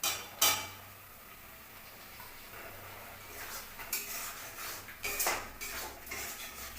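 Paneer added to a pan of spinach for palak paneer brings quiet metallic clinks and clatters of a utensil against the pan, scattered over a faint background.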